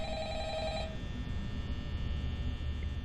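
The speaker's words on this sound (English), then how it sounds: "so phone guy's calling. We'll listen to what he has to say." An old-style telephone rings in the video game Five Nights at Freddy's, a single short trill that stops after about a second and leaves a faint electrical hum.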